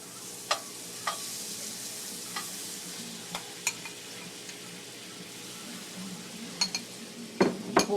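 Butter sizzles quietly in a hot greased pan for chicken piccata, with scattered sharp clicks of a utensil against the pan and a cluster of louder knocks near the end.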